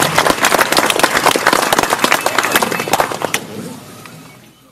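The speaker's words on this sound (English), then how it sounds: "let's bring them to the podium with a big round of applause" Audience applause for the Premier at an event, a burst of loud, close clapping that fades out over the final second.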